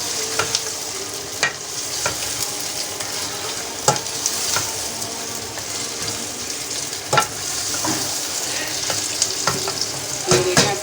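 Tomatoes frying in a pot of mutton stew give a steady, fairly loud sizzle with repeated sharp clicks and scrapes of stirring spread across the stretch, and no voices.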